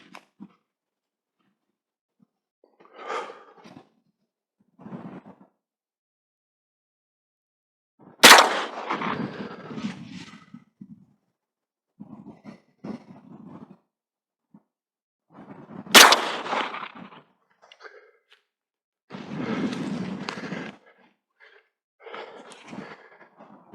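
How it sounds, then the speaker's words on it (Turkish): Two loud single shots from a 36 caliber shotgun ring out several seconds apart outdoors at a 100-metre range, each a sharp crack followed by a rolling echo, with quieter handling noises and breaths between. "100 metre 36 kalibre destekli atacağım."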